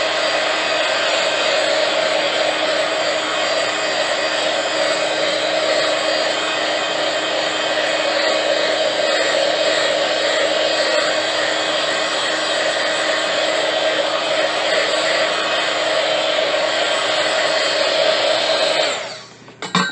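A hair dryer blows on fresh white paint on a craft board, a loud, steady whooshing roar that holds without break for nearly the whole stretch before cutting off abruptly at the end.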